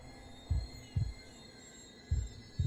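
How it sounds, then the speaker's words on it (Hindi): A pounding heartbeat thumps low and heavy in paired beats separated by a pause, deep muffled pulses over a faint humming background with no speech. "मेरे दिल की धड़कन से मेरी छाती फट रही थी।"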